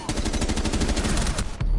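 A rapid burst of automatic gunfire in Rainbow Six Siege, about twenty shots in an even, fast rhythm, loud and close, cutting off abruptly.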